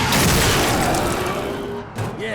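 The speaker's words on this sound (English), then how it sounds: "a big explosion" A big explosion in The Darkness II, a loud broadband blast that rolls on and slowly decays, with a voice speaking briefly near the end.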